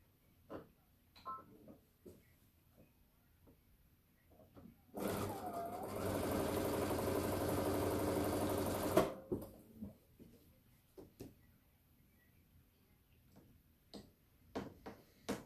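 A home sewing machine runs a steady, continuous stitching burst of about four seconds while chain piecing quilt fabric, bracketed by quiet clicks and handling taps.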